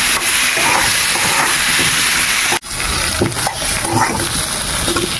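Potatoes frying in oil with turmeric and salt, a loud, close, hissing sizzle that drops out briefly midway and then resumes.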